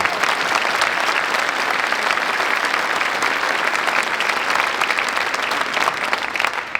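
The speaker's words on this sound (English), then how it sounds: "So a round of applause for Stephen Piter." Sustained, dense applause from a concert audience honoring the arranger of a high school indoor marching band's show, steady and full throughout without letting up.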